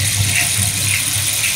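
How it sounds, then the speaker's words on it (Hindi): A river flows over stones, a steady close rushing wash of water with a constant hiss and low rumble and no talk. "ये जो नदी चलती है तो पत्थरों की आवाज आती है।"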